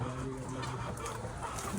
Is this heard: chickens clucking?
yes